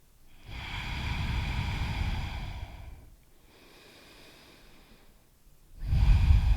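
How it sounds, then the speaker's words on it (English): Slow breathing in and out through the nose during a yoga sun salutation, close and audible, with a long inhale, a quieter exhale, then another strong inhale, no talk. "Take 2 more breaths."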